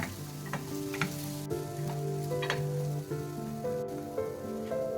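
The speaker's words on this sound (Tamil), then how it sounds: "இது நல்லா கோல்டன் ப்ரௌனில் வதங்கட்டுங்க" Onions sautéing in a pan toward golden brown for a Tamil shark gravy, a steady close sizzle with soft stirring scrapes and light ticks throughout, no voices.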